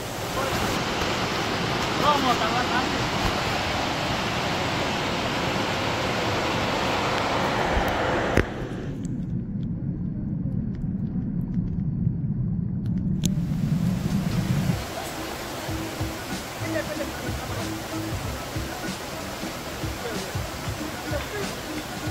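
A mountain waterfall in the Haute-Savoie rushes as a steady, loud broadband roar, briefly cut off partway through before resuming more faintly, with talk over it.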